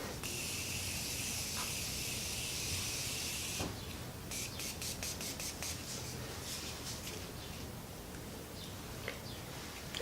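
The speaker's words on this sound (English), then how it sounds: "to make sure that this Slayy stays all day, we are going to be taking the Morphe Setting Mist" Morphe setting mist sprayed onto a face: a soft, steady hiss of fine spray, then a quieter stretch with a few light clicks and rustles, faint and close.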